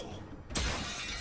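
Glass shatters in an Archer cartoon scene, a sudden loud crash of breaking glass that bursts in and rings out in a bright scattering spray for about a second.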